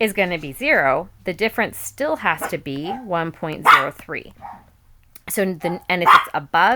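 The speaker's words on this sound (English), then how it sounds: "I'm so sorry about my dogs barking." Dogs bark in the background of a room while someone speaks steadily, the barks partly masked by the talking.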